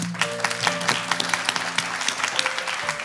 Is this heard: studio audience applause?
yes